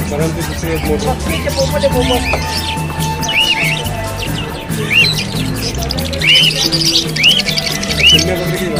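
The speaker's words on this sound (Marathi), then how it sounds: "हे बघा पोपट छोटे छोटे, हे अमेरिकन पोपट दिसते ना।" Busy, high-pitched chirps and short whistled calls from small parrots at a bird market, repeated irregularly over background chatter and low rumbling noise.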